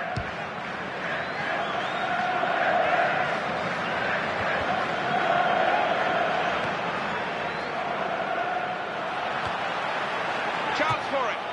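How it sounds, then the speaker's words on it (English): Crowd in a football video game giving a steady, droning jeer after a missed chance, a broad sustained wash of noise under ongoing talk. "he's getting some stick from the crowd, and you can understand why"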